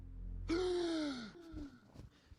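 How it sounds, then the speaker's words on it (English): A man gasps after cold water, a single sharp, drawn-in breath with a voiced rising-and-falling tone, followed by a couple of fainter breaths, close and clear. "Why are you gasping like that, man?"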